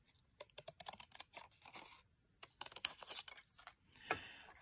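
Scissors snipping leather-look paper pieces at the stitching of an interactive card: quick, close clusters of small crisp cuts and paper rustles, fairly faint, in uneven bursts with short pauses.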